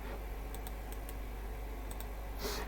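A series of light, sharp mouse clicks, some in quick pairs, sound close but faint above a constant low hum, ending with a brief soft rustle.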